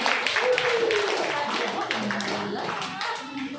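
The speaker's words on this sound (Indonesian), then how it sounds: "Tepuk tangan untuk pembawa acara kita" An audience at an indoor gathering in Lombok claps for the emcee, a brisk patter of hands that fades toward the end while people talk over it.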